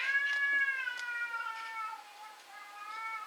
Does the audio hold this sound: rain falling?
no